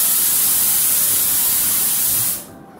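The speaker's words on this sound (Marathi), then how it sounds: "पाऊस बघा कसलाच पडतोय।" Heavy monsoon rain in Konkan makes a loud, continuous hissing roar that cuts out abruptly near the end, leaving near silence.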